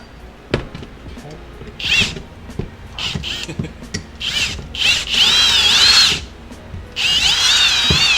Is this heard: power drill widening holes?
yes